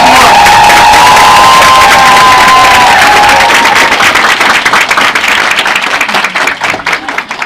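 Loud applause mixed with cheering and whoops from an audience greeting a guest speaker at a business lecture, with a sustained shout early on, then clapping that gradually thins toward the end.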